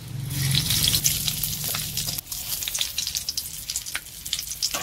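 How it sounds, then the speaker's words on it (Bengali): Bengali five-spice and bay leaves sizzle sharply in hot oil for a fish curry, a loud crackling burst at first that settles into a steady, close frying hiss with scattered pops. "মাছের ঝোলটা বসাবো, তার জন্য 5 ফোড়ন তেজপাতা ফোড়ন দিয়ে দিচ্ছি।"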